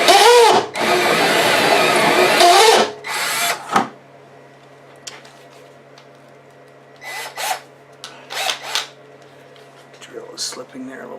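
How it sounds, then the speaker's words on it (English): Electric drill boring a hole through a thin metal junction box without a pilot hole, a loud whining grind for about three seconds, then quieter short bursts as the bit slips, with someone talking in between. "Drill is slipping there a little bit."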